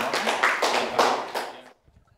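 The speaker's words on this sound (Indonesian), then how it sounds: "berikan aplaus untuk peserta nomor urut 2" An audience applauds contestant number 2 at a student achievement competition, a brief burst of clapping from a room of people that stops abruptly.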